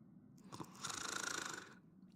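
A character snores in the Honkai Star Rail video game, one drawn-out, raspy inhaled snore preceded by a couple of soft breathy sounds. It is quiet and heard alone.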